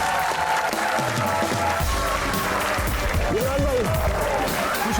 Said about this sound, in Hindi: तो तालियों में पूरा जोर लगाएंगे